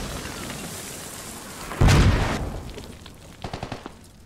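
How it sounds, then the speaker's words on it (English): A mortar round strikes with a loud, close boom in the military shooter Squad, its rumble trailing off before a short burst of distant gunfire cracks near the end. "Mortars coming in."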